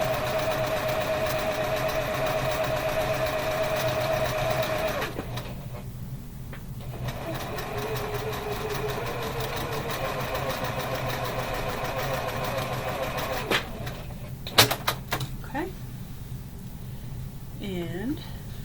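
Sewing machine taking a few stitches on cotton quilt pieces: a steady mechanical hum and whir runs under a woman's speech, with a brief pause and a few small clicks near the end.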